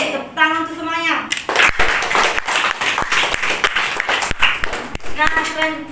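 Students in a classroom break into a lively burst of clapping lasting a few seconds, with children's voices and a teacher speaking just before and after.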